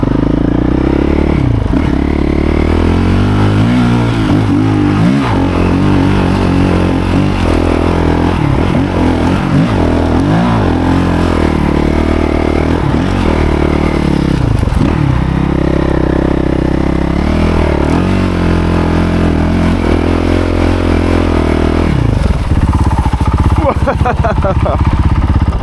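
A motorcycle engine climbs a steep uphill track in Chile, holding a steady loud drone with changing revs, clatter and scraping from the rough ground, and a voice talking over it at times.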